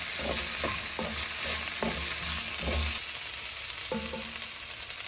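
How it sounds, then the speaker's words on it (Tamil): Ginger-garlic paste stirred and fried in a pan for Bengali aloo dum: a steady close sizzle with repeated scraping strokes of a spoon against the pan, no voices. "பூண்டு இஞ்சி பேஸ்ட்டு போட்டு ஒரு கலரணும்"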